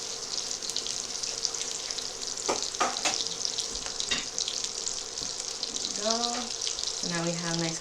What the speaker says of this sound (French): je vais juste laver mes pinces